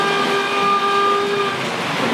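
A loud, steady electronic siren-like tone from a vintage Lionel Pennsylvania electric toy train holds for about two seconds, sustained and even, with a slight buzzing character.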